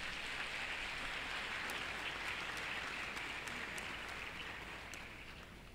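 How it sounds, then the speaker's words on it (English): Warm, steady applause from an audience at an Independence Day awards ceremony, dense clapping heard from some distance and fading slightly toward the end, with no voices over it. "Let's welcome him with a warm round of applause."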